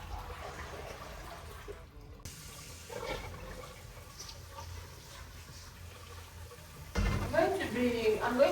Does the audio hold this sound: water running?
yes